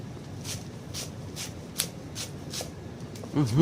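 A kitchen knife chopping pork on a cutting board for Thai nam tok pork salad, about seven crisp, evenly spaced knocks at a steady rhythm, close and fairly loud over a low background hum, with a heavier clatter at the end.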